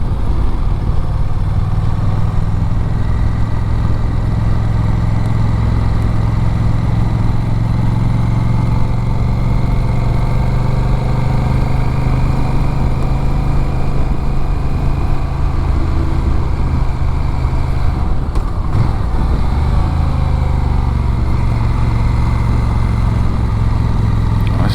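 A Honda Rebel 1100 motorcycle engine pulls uphill with a loud, continuous low rumble that stays close and steady, shifting slightly in tone near the end, with no talking.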